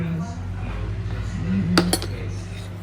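Utensil clinks against a dish while a cooked egg is mixed, a couple of sharp clinks near the end over a low steady hum, with a voice briefly heard.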